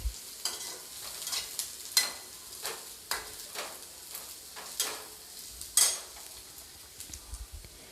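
Chopped ginger and garlic fry with onion in a hot pan, a steady sizzle broken by repeated scraping stirs of a spoon against the pan, about a dozen strokes in a loose rhythm.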